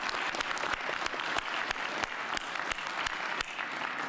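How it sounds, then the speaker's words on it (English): Steady audience applause fills the room during a New York mayor's health insurance announcement: dense, continuous clapping from a crowd, fairly loud and even throughout, with no talk over it. "Let's give them a round of applause."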